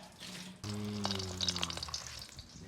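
Two eggs and a hotdog sizzle in a frying pan at breakfast, a steady close crackle and hiss with a brief tonal hum partway through.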